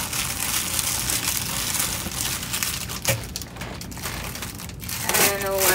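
Someone dumpster diving crumples and rustles a plastic bag in crisp, irregular crinkling bursts that run throughout, loudest near the end.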